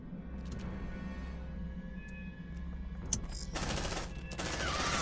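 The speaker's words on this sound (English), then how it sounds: "Nice shooting, Maze." Rapid automatic gunfire from the sci-fi squad game Aliens: Dark Descent rattles in steady bursts, growing denser and louder toward the end with sharp crackling over a low rumbling game soundscape.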